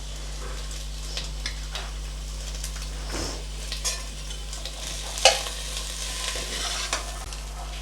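Green peas are stirred as they fry in a pan for a traditional village-style Bhogi vegetable dish. Faint, sporadic scrapes and a soft sizzle sit over a low, constant electrical hum, with one sharper clink partway through.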